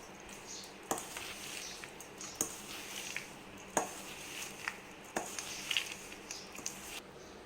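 Hot sugar syrup is stirred into fried dry fruits for dry fruit laddu, a spoon scraping and clicking against the pan in irregular strokes, faint and close, with a soft sizzle beneath.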